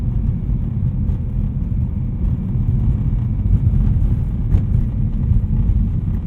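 A tuned 2010 BMW E92 M3 drones from inside the cabin as light throttle is fed in, a steady deep engine and road rumble that holds fairly loud and even throughout, with no talking.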